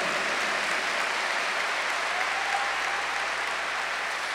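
A church congregation applauds during a sermon with a testimony, steady and dense clapping at an even level throughout, with no voices over it.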